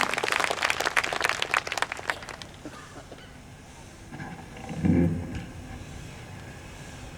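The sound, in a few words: applause welcoming a poet to the stage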